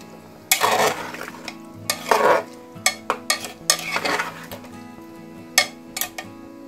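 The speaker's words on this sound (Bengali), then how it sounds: "আর সব কিছু খুব ভালো করে মিক্সড আপ করে দেব।" A spoon scrapes and clinks against a pot while mutton curry with salt, garam masala powder and a little ghee is stirred, making several close, irregular scraping bursts with no talk.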